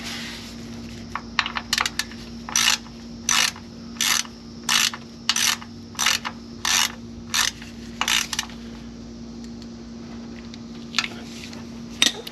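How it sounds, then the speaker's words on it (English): A ratchet clicks in quick, crisp bursts while tightening a bolt on a Chevy/GMC van's rear differential, about a dozen close, rhythmic strokes over a low steady hum, then a few scattered clicks near the end. "I tightened it just enough where future me will be able to get it back off"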